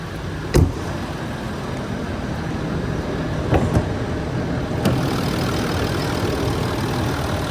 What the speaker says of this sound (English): The engine sounds alright. I mean, it doesn't sound bad at all.